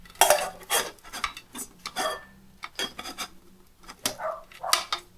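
Metallic clicks, scrapes and clanks from the folding handle of a shallow camping frying pan being worked, a string of short irregular knocks up close with no talking.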